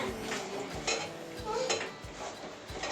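Batter for crispy bhaji being stirred in a bowl, a steady run of close scraping and clinking against the bowl with faint background sound.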